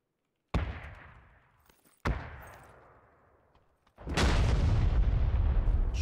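Grenade blasts in the video game PUBG: two sharp, loud booms, each with a long decaying rumble, followed by a sustained, heavy roar of explosion and debris. No voices are heard.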